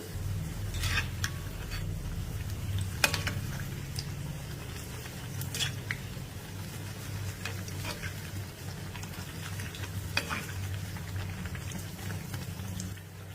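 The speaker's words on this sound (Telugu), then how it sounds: "ఇంతకు ముందులాగే వీటిని కూడా ఫ్రై చేసేసుకోవాలి" Snack pieces deep frying in hot oil give a constant low bubbling hiss, broken by scattered sharp crackles and pops, moderately close, with no talking.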